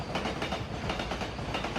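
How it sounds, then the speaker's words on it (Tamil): A freight locomotive built for hauling double-stack container trains on India's Western Dedicated Freight Corridor runs on the rails with a continuous loud rumble and faint rhythmic clatter of wheels, close by and without voices. "வெஸ்டர்ன் ஃப்ரைட் காரிடாரில் இந்த மாதிரி டபுள் டக்கர் கண்டெய்னர் ட்ரெயின்கள் இழுத்துக்கிட்டு போகிறதுக்காக இந்த லோக்கோமோட்டிவை"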